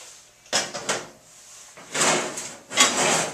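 Plastic blower housing lifted off a small engine after its three bolts are removed, giving a few brief, close hollow knocks and scrapes in separate bursts.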